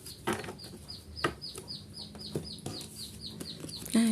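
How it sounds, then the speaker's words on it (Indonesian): A baby chick gives repeated thin, high peeps in a steady rhythm. Quieter clucks and soft thumps sound beneath them, and a brief tonal sound comes at the very end. "ini suara anak ayam ya"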